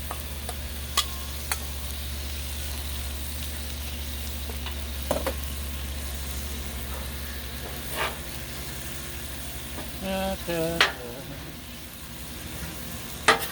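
Beef stir fry sizzles softly and steadily on a Blackstone griddle under a constant low hum, broken by a few sharp clicks and scraping taps.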